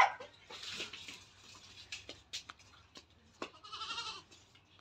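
Goats bleating close by while being hand-fed leaves at home, several short wavering calls spaced across a few seconds over quiet rustling.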